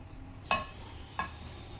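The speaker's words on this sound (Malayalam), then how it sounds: "നെയ്യൊന്ന് ഒഴിച്ചിട്ട് നമുക്ക് ഈ കൂടുതൽ ഗുണമുള്ള ഈ കറുത്ത മുന്തിരി തന്നെ അങ്ങോട്ട് ചേർത്ത് കൊടുക്കാം" Black raisins hit hot ghee in a pan, giving two quiet, short sizzling clicks about two-thirds of a second apart over a soft, steady background hiss.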